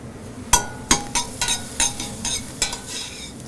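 Garlic sizzles with translucent onions in a pan while a utensil stirs with repeated sharp scrapes and clinks against the metal, close and loud over a steady frying hiss.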